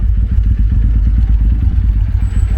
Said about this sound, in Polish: Taki oto motor, nie?